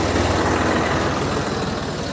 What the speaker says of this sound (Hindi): ये देखो ये ट्रावली निकल गई फिर नीचे उतार ले बैठ जाऊंगा ये देखो निकल गया ट्रैक्टर